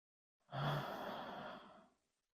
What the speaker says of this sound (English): slight constriction at the back of the throat that creates that audible breath